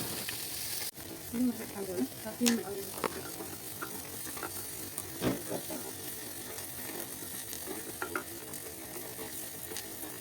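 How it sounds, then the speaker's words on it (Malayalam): Sliced onion sautéing with salt in a pan for a homemade sardine curry, giving a steady low sizzle and frying hiss with occasional stirring scrapes and clicks throughout, moderately close. "ഒരു സവാള നീളത്തിൽ അരിഞ്ഞ് ചേർത്ത് നല്ലവണ്ണം വഴറ്റിയെടുക്കുക"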